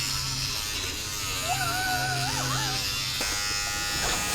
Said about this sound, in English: Need my toothbrush off.